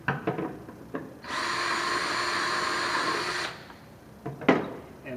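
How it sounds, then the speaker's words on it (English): A power drill bores through a plastic bucket lid for a water filter system, one steady whine lasting about two seconds, with light handling clicks before and after. "I'm going to drill the lid that goes on the bottom bucket"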